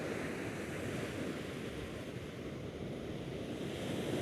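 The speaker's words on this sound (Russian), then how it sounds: "Такое море." Sea surf washes against the shore at Kargıpınarı in Mersin, Turkey, a steady broad roar of waves mixed with wind buffeting the microphone, with no voices.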